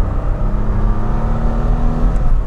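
A 1960s Jaguar S-Type saloon with a 3.8 litre engine accelerates smoothly, its steady, loud engine drone rising slightly as it pulls, heard close from the car with no talking.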